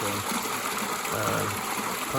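A pond pump outlet at a stream project gushes continuously, its jet sucking in air and churning water in a steady, close, loud hiss with a low, uneven bubbling underneath.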